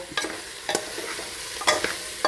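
Cauliflower being sautéed in oil in a pan for a North Indian style curry: a soft steady sizzle broken by several sharp scrapes and clatters of the stirring spoon, close up, with no talking.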